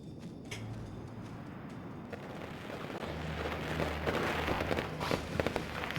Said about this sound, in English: Well, firecrackers.